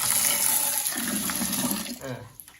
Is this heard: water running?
yes